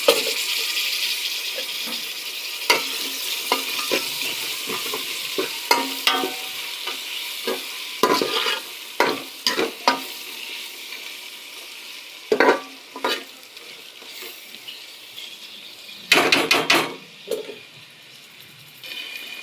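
Onions fry in a pan for an Andhra-style mutton head and trotters curry, with a soft background sizzle and repeated loud scraping stirs of a spoon that come in irregular bursts.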